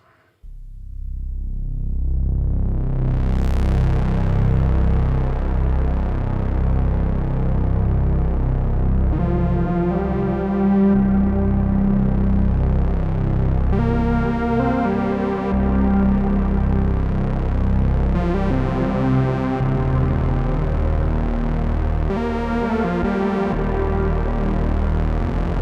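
A Korg MS-20 analog synthesizer drones with a rich, buzzing tone that shifts and sweeps, its notes washing together in a long reverberant tail.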